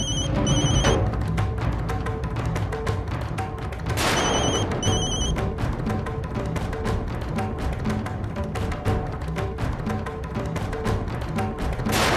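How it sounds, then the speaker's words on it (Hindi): A telephone rings in two short bursts, one at the start and one a few seconds later, over a dense, loud background of dramatic music and noise in a Hindi TV drama scene. "तुम्हारे मानव का ही फोन होगा।"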